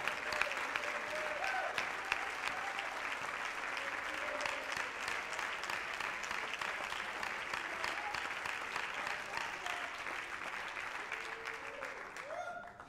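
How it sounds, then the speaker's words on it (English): Hands clap continuously across a church congregation during an evening worship service, a dense, even wash of applause lasting the whole stretch with faint voices underneath. "will somebody clap your hands and praise God like you mean it right now."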